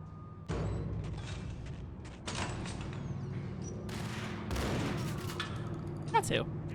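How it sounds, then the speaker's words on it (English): Gunfire in the video game Max Payne, in several separate bursts of shots with pauses between them. A voice speaks quietly underneath, and a sharp crack stands out near the end. "Who else was shooting at me?"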